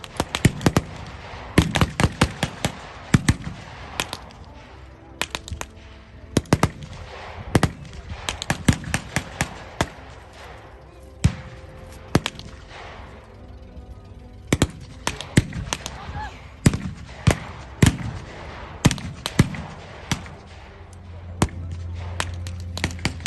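Rifle and machine-gun fire from a WWI battle reenactment crackles in scattered sharp shots and short bursts, some close and loud, others more distant, continuing irregularly throughout.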